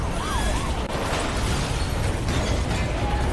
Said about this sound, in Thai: ระเบิดปะเนี่ย โอ้โห ระเบิดด้วยวะ